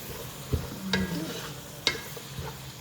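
Fried rice being stirred and mixed in a pan, a quiet sizzle under scattered scrapes and a few sharp clinks of the spoon against the metal.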